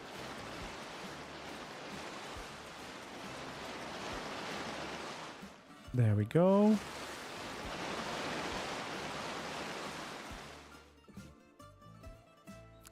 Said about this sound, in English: A little waterfall coming down.